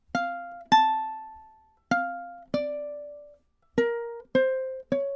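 Ukulele plays measure 14 of a tune high on the fretboard, seven plucked single notes in a halting rhythm, each ringing and decaying, close and clear with no talking.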